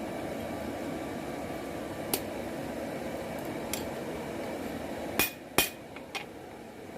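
A blacksmith hammers a steel knife blank, drawing out the taper; sharp metallic strikes ring out sparsely over a steady background hum, a single blow early on and then a quick cluster of hits near the end.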